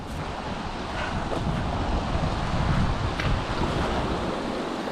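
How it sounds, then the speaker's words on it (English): A waterfall beside a rocky hiking trail, a dense, steady roar of rushing water filling the whole stretch with broadband noise, close and fairly loud with no voices. "here's another fun one for the waterfall"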